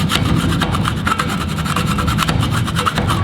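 Hand file draw filing a metal workpiece, a continuous dense scraping rasp with fast fine strokes, close and fairly loud, no voices.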